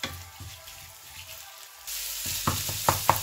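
Minced meat browning in a pan for vegetable noodles: a faint low sizzle first, then louder frying with sharp spoon scrapes and clinks against the pan toward the end.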